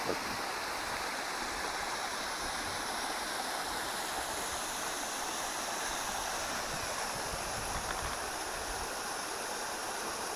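Constant rushing of a small waterfall in a creek gorge splashing into a pool, a steady broadband roar with no voices.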